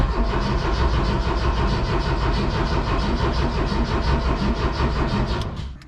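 A Porsche 914 2.0 race car engine, left sitting for ten years, cranks on a dying battery: loud, close, rhythmic starter churning for several seconds without catching, then slowing and cutting off.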